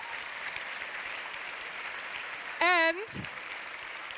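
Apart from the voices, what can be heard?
audience applause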